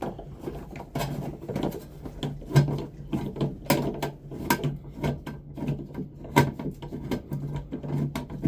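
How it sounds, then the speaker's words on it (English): A 1/4-inch nut driver backs screws out of a True refrigerator's panel, giving close, dense ratcheting clicks and small rattling taps that run continuously with brief pauses, with no voice present. "I'm using a 1/4-inch nut driver to do that."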